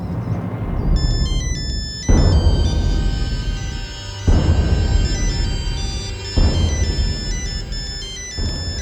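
A phone ringtone plays loudly and repeatedly, a melodic electronic ring cycling several times over a low rumbling background.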